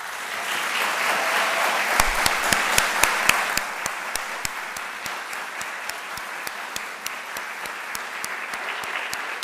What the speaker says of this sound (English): I'd love for you to give them a round of applause